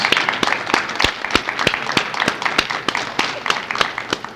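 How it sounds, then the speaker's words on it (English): A small audience claps for poets at a protest-poetry literary event, the individual claps distinct and fairly close in an uneven steady patter. "Give yourselves another round of applause."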